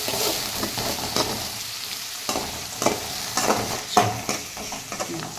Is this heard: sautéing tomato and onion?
yes